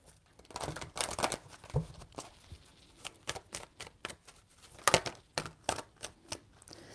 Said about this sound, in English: Give me one more shuffle.